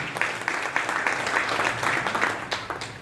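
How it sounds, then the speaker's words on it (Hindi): A faint, continuous round of applause from an audience honouring a speaker at an Ayurveda talk, a dense wash of many hands clapping heard from some distance, steady throughout. "सभी लोगों से निवेदन है कि सर जी के सम्मान में जोरदार ताली हो जाए"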